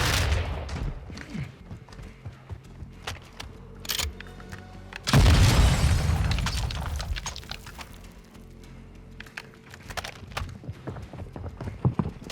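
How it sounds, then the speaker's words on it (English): A grenade explodes in a loud, sudden blast with a long decaying rumble during Call of Duty Modern Warfare II gameplay, amid scattered gunfire and clattering footsteps before and after. "Grenade!"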